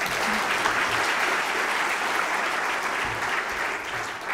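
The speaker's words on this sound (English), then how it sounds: "go ahead, applaud him." Dinner audience at a school centennial fundraising dinner applauding steadily, a dense, even wash of clapping from a large room that holds at constant level throughout.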